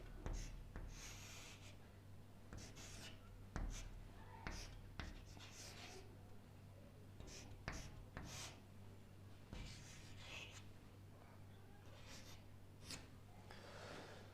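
A marker or pen writes a fraction multiplication question on a board with scratchy, irregular strokes and taps, fairly faint and close, with some breathing but no clear speech.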